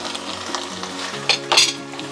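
Food in a cooking pot sizzles steadily while being stirred, for a dish of ugali with okra and mackerel. Two louder scraping clatters of the utensil against the pot stand out near the middle.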